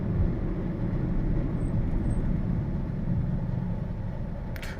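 A car is heard from inside as it slows and comes to a halt at traffic lights, with a steady low engine and road rumble that holds level throughout and no talking.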